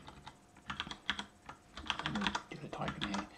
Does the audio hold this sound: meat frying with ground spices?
no